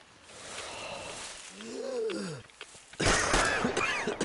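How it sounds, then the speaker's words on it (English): Labored, strained gasping and groaning breaths of a character struggling to breathe in a radioactive area in Metro Exodus rise and fall over a noisy background, followed by a harsher burst of rasping sound. "That was the sound of me struggling to breathe in a radioactive area."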